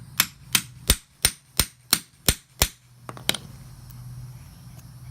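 Eight sharp hammer blows on a grommet cutter over fabric in a steady rhythm, loud and close, followed by a couple of lighter taps and a quiet rustle.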